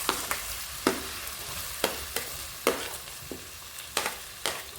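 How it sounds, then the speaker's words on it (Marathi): Chopped onion frying in melted butter with caraway seeds in a pan for pav bhaji, giving a steady soft sizzle broken by regular scraping strokes of a spatula, close and moderately quiet with no talking. "त्यामध्ये आता चिरलेला कांदा टाकावा आपण।"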